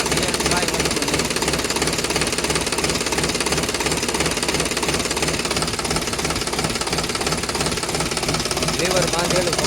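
Sonalika DI 740 tractor diesel engine running steadily up close, a loud, continuous rumbling drone with knocking pulses throughout.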